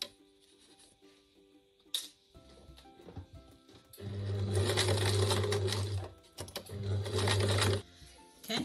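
A sewing machine stitches straight across the boxed corner of a fabric tote bag in two loud, steady runs, the first lasting about two seconds and the second shorter after a brief pause, with light handling clicks and rustles before them.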